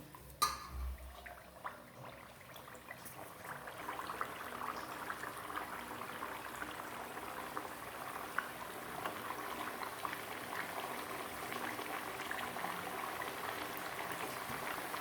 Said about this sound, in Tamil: எண்ணெய் சூடேறிடுச்சு. நம்ம இப்போ பொரிச்சு எடுக்கலாம்.